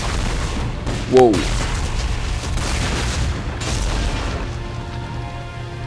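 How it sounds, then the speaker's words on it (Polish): A loud, booming explosion in the Mass Effect 3 video game rises over a dense, continuous layer of battle noise. A man lets out a brief exclamation around the blast. "Epicka eksplozja"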